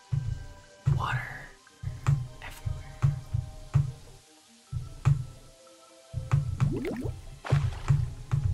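In the video game Terraria, water drips and splashes in short squishy bursts, repeating irregularly against quieter gaps.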